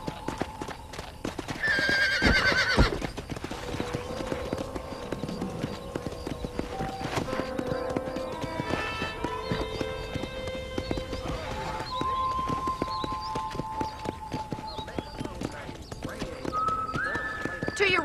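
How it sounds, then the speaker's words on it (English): In a western ranch video game, a horse gallops with rhythmic, fast hoofbeats. A loud whinny comes early, and the hoof clatter continues steadily throughout. "Okay, let's see if you can still ride a horse."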